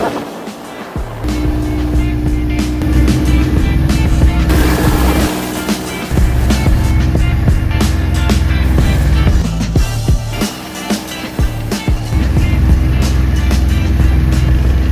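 A boat motor drones steadily and loudly throughout, with a wash of water and wind noise around it and no talking.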